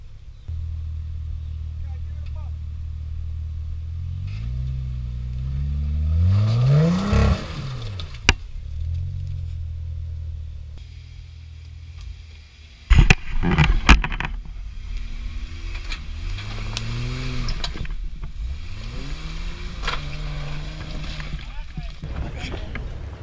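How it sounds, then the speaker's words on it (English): Modded Jeep Rubicon engine revving and straining as it crawls over an off-road obstacle, rising and falling in pitch with clanks and thuds from the rocks, while people talk nearby. "this Jeep just went over the same obstacle you just saw the last Jeep do"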